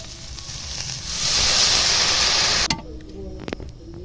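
Water hits hot frying spice paste for masala potol (pointed gourd) curry, bursting into a loud, broad hiss that swells and holds for over a second, then cuts off sharply, followed by faint clinks and a softer lingering simmer.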